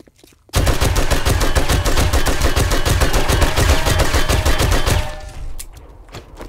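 Rapid automatic gunfire in the DistrictZero game mod rattles out in a steady, loud burst for several seconds, then cuts off, leaving a few scattered faint noises.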